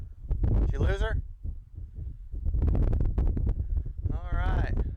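Strong wind buffets the microphone outdoors at an RC plane flying field, heavy low rumbling gusts coming and going as someone talks.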